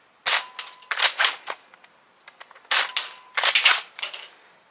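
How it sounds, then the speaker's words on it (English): Nerf Elite 2.0 Eaglepoint blaster shooting Elite foam darts, a series of sharp, close spring-powered pops in quick bursts, each followed by brief clattering, with no talk over it. "First we're going to fire normal, and then we'll switch to another set of Elite darts and slam fire."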